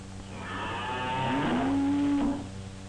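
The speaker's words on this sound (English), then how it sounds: "The cows are mooing for their dinner." A cow moos in a barn at feeding time, one long, drawn-out low call that swells and then fades, fairly close and clear against a quiet background.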